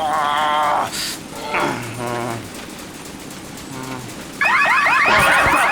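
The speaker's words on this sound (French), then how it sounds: "L'alarme de la couveuse." A loud electronic incubator alarm in a cartoon shrills in repeating warbling bursts, stopping and restarting, with a short sweeping tone pattern that grows louder and more insistent toward the end.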